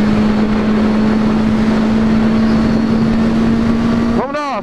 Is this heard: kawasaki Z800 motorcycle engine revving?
yes